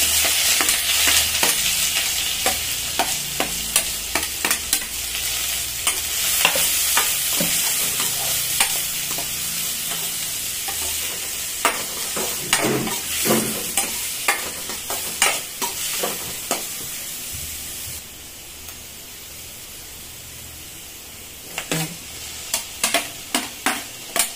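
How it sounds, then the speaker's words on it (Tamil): Onion, garlic and mustard seeds sauté in a pan for a capsicum side dish, a steady close sizzle broken by repeated scraping stirs of a spoon, some louder clatters, with no talking. "இது கொஞ்சம் நல்லா வதங்கட்டும்"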